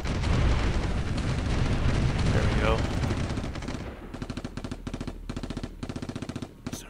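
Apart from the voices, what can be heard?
tanks attacking artillery units in video game Supreme Ruler 2020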